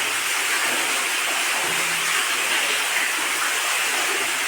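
Water from a side borewell bored into a farm well gushes out under high pressure, a steady dense roar that holds evenly from start to finish with no voices.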